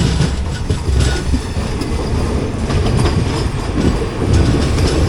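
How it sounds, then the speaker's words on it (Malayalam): A Mysuru–Chennai Vande Bharat Express train rushes past close by, giving a loud, steady roar of rolling wagons with wheel noise and rail clatter that lasts throughout, with no voices. "ഇത് മൈസൂർ ചെന്നൈ വന്ദേ ഭാരതാണ്."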